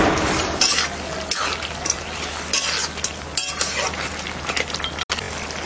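A fish head cooks in a pot under steady stirring, with scraping, clinks and a low sizzle that stay loud and close throughout, and no one speaks.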